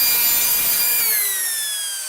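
A table saw with a miter gauge trims the end off a wooden pizza-cutter blank, the blade whining loudly through the cut before the pitch slowly falls as it spins down alone.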